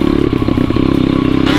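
A Thumpstar TSN 250S pit bike buzzes past at close range, its engine drone steady and fairly loud throughout the short pass.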